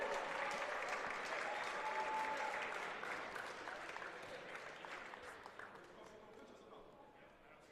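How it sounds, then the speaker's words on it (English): A crowd at a men's college basketball game applauds loudly at first, then the clapping gradually fades away, with voices heard over the noise. "Let's have a big round of applause for Akil Vaughn, Sean Donlin, and Ryan Penab"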